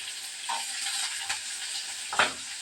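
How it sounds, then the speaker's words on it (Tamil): Onion and garlic sautéing in a pan with mustard seeds, a continuous close hiss of frying broken by a couple of brief scraping stirs, no talking over it. "இந்த வெங்காயத்தை இதில் போட்டு வதக்கிக்கணும்"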